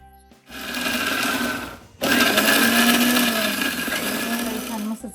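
A mixer grinder whirs loudly as it purees fresh mint, coriander, cumin and salt into a fine chutney, running in two steady bursts with a short pause between.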